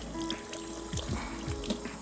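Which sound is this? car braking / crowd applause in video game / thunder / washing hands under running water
washing hands under running water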